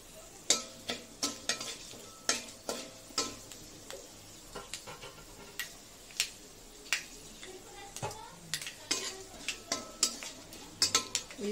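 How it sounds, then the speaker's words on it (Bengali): Fenugreek seeds and a bay leaf fry in oil with a quiet, soft sizzle, broken by a rhythmic series of sharp scraping taps as a spoon stirs the pan. "এই মেথিটাকে দিয়ে দিলাম তেলের মধ্যে, একটু ভাজা হোক"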